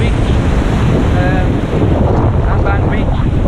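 Surf rolls and crashes continuously at a busy beach in Vietnam on a bright day, loud and close, with heavy wind buffeting the microphone throughout.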